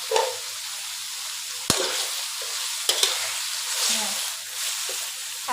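Minced pork stir-frying in a hot pan for Thai basil pork, a steady sizzle broken by a few sharp scrapes of the spatula, with a voice faintly audible in the background.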